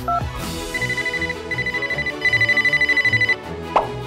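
A cartoon telephone rings in rapid, pulsing electronic trills, several bursts in a row, loud and close over background music, ending with a brief click.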